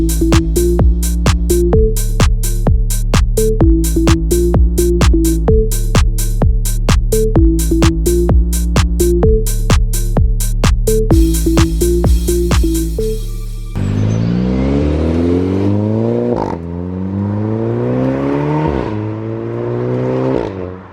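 A car with a new Gravity Performance aftermarket exhaust idles with a rhythmic pulsing note, then revs and pulls away, the exhaust tone rising and falling through repeated gear-like sweeps, loud and close.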